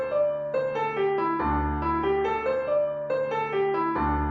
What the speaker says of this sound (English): then we have the sus pentatonic, which is a mode of the major scale.